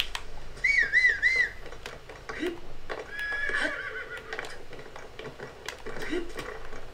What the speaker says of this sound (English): There's a bunch of horses over there that I might be interested in.